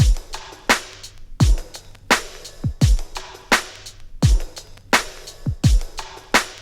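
A hip hop drum beat loops steadily with a deep, punchy kick, sharp cracking snares and lighter ghost-note hits between them, loud and close with no voices over it.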